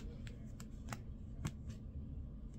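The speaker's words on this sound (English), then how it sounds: "I split the deck." A tarot deck being split and shuffled, a quick series of soft, crisp card riffles and taps, close but faint over low background hum.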